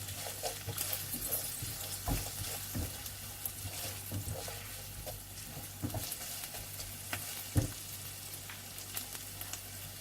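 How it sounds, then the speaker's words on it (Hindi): Whole red chillies sizzle and crackle in hot oil with frying chicken, a steady close hiss dotted with pops and spatters and occasional stirring clatter, no voices. "अब मैं इसके अंदर ऐड कर रही हूँ रेड होल चिलीज।"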